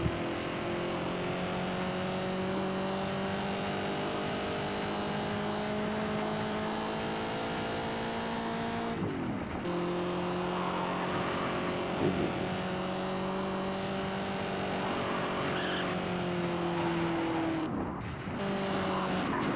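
Corvette Stingray engine droning steadily as it drives in Gear Club, a continuous sustained tone with two brief drops as it shifts gears, loud and close, no talking.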